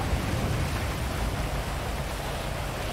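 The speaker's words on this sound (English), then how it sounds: "because it's fucking raining" Steady, dense rain pours down in the GTA 5 video game, a loud continuous hiss with no breaks and no voices over it.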